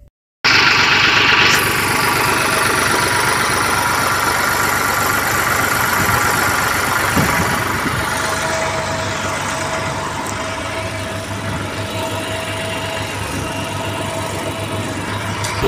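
A water tanker truck's engine idles steadily and loud close by, with a constant low rumble and vibration running the whole time and no voices heard.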